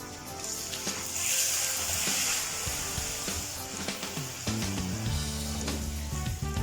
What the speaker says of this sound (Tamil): நம்ம பூரி போடுறதுக்கு ஆயில் ஹீட் பண்ணியாச்சு. இப்போ நான் பூரி போடுறேன்.